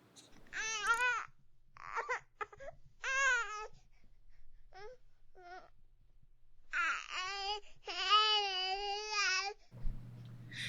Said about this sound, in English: this is the sound of a baby crying